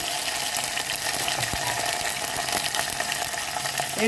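Onion and curry leaves fry in hot oil with a steady, loud sizzling hiss that runs unbroken from start to finish, with faint stirring in the mix.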